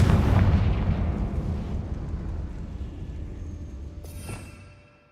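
A Confringo explosion spell detonates in a video game with a loud, booming blast that rolls into a long rumbling decay, followed by a brief crackling burst near the end before fading out.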